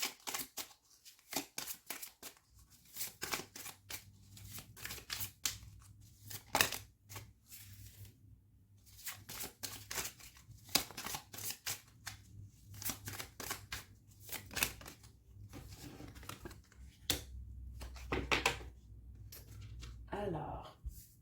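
Tarot cards being shuffled and laid out in a quiet room, a run of crisp papery flicks and soft slaps in irregular bursts, close and fairly quiet, with faint breathing and occasional low handling thumps.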